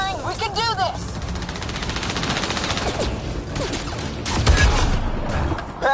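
Mass Effect: Andromeda firefight with sustained bursts of gunfire and shrapnel-like impacts, loud and close, under shouted voice lines and tonal game effects.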